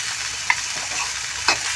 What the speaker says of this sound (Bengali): একই রকম করে আমি আলুগুলোও ভেজে নেব।